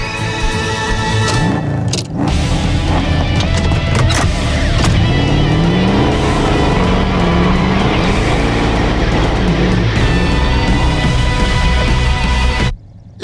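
A cartoon car revs hard with its parking brake on, a loud sustained engine roar with wavering pitch that holds nearly the whole time before cutting off abruptly at the end.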